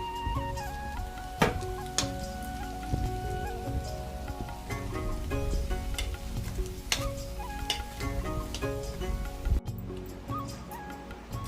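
Fritters of rice and pumpkin leaves fry in hot oil in a village kitchen, a steady crackling sizzle with scattered sharp pops and faint crow caws in the background.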